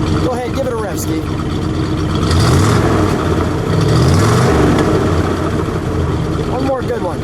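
A 1973 Mercury Montego GT's 351 V8 with original exhaust tips idles, then is revved twice in loud swelling blips that fall back to a rumbling idle, with people talking over it.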